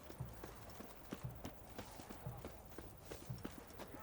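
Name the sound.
horse hooves clip-clopping in The Witcher III video game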